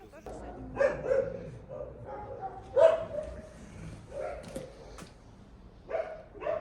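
Several dogs being caught at a shelter bark and yip intermittently at a distance, with faint whimpers between, over a quiet background with some indistinct voices.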